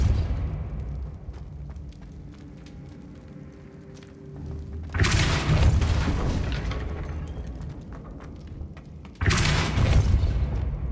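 Depulso spell cast in Hogwarts Legacy, bursting out as heavy booming blasts, two strong wide impacts several seconds apart over a low rumbling game background.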